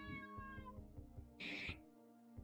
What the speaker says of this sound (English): Look guys, I brought my cat, Nathan.